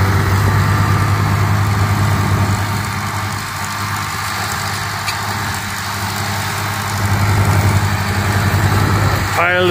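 County tractor of 9.5 tons, front-ballasted with weights, pulling a nine-furrow plough over rolling hills, a steady loud low engine drone throughout with talk over it.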